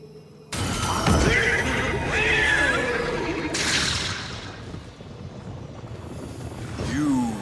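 A horse whinnies loudly in the Destiny 2 video game, a long bright neigh with wavering pitch, followed by a burst of noisy rustling and a second shorter whinny near the end, set against a game soundtrack.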